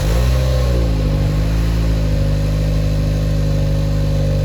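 A Toyota Camry with a 2.5-liter four-cylinder engine runs steadily after a cold start, heard close up under the hood as a loud, even mechanical hum with no voices.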